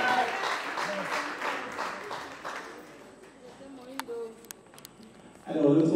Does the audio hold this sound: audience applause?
yes